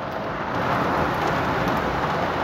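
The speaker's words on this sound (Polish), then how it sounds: "Taka ulewa." Heavy rain pours down in a constant, loud hiss and patter, with no break and no voices, during a powerful thunderstorm over Pruszków, Poland.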